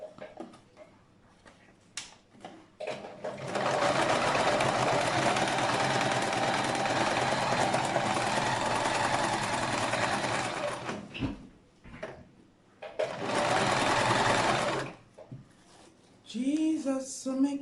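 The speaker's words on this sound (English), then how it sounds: "So now we're going to sew it round." A sewing machine stitching around a homemade hat, with two long bursts of rapid, steady motor-driven stitching that stop and restart, close up, and a brief voice at the very end.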